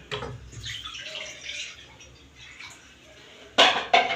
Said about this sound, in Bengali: কড়াই বসিয়ে দিয়েছি, এবার জল দিয়ে দেবো।